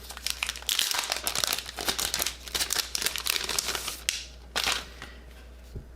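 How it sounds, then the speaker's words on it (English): Thin plastic film crinkles and crackles as it is peeled off a 2021 Kindle Paperwhite Signature Edition, a close, continuous rustle with short bursts and pauses, no talking. "let's do the honors of taking this here plastic off"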